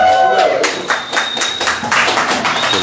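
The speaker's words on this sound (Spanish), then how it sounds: "entonces un aplauso para mi compa Alejandro." Listeners at an academic lecture on psychedelia in Mexico give the presenter a round of applause, a close, evenly paced patter of claps lasting a few seconds, with a voice briefly heard at the start.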